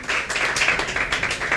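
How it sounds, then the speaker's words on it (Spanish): A church congregation claps in a steady, dense wash of applause, close and fairly loud, with no voices breaking through. "Puede darle un fuerte aplauso a nuestro Dios en esta hora"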